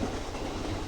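A train rolls past on railroad tracks, a steady loud rumble with a rhythmic clickety-clack of wheels close by.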